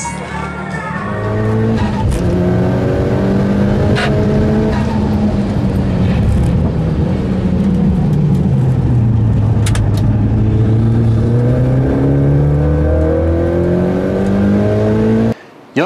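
A Mitsubishi 4G63 engine with an HKS GT II turbo kit revs hard and continuously, its pitch climbing and falling through the gears, loud and close, with a brief cut at the end.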